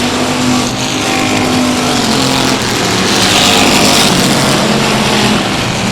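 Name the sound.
race cars on the final lap at South Texas Speedway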